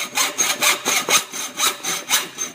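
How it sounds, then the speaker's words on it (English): Hacksaw cutting a slot into a metal seat-post clamp on an adult tricycle, with steady back-and-forth strokes, about nine rasping passes in a quick, even rhythm, close and clear. "using a normal hacksaw, is just come around and I put a slot in the front here"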